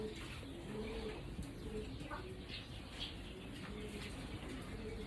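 Young pigeons coo softly and repeatedly at close range in a loft, a steady low murmur with occasional wing flutters and faint chirps, no talking.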